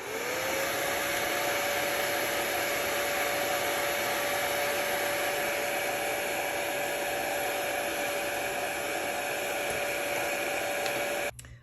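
A heat dryer blows continuously on a journal page, a loud, steady whirring hiss with a sustained motor whine that holds evenly for about eleven seconds before switching off abruptly at the end.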